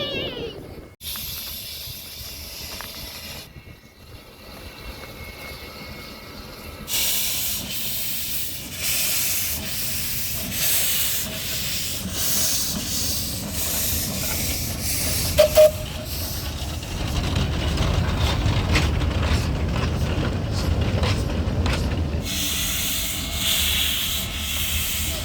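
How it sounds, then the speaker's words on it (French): La Trochita, an old narrow-gauge steam train in Patagonia, hisses and rolls with long stretches of breathy steam and a growing rumbling, clattering rhythm of wheels on track, loud and close, with voices heard at times. "un train à vapeur comme celui-ci"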